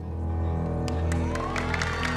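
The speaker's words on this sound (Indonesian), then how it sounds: "Tepuk tangan dulu dong." Audience clapping and cheering at an Indonesian television variety show, a steady wash of claps with a few sharper bursts, heard alongside loud backing music throughout.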